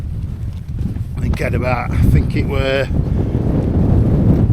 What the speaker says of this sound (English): the wind, so gusting, you know about it when you're in it, and the wind chill's freezing